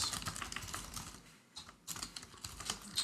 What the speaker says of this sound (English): I'm not typing very properly here.